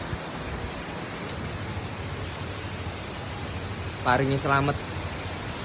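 Strong storm wind with heavy rain in Banyuwangi roars as a steady, dense rush throughout. A person speaks briefly near the end.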